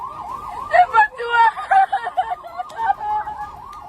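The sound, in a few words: warning sirens during drone attacks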